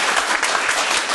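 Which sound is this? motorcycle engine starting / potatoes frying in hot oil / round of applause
round of applause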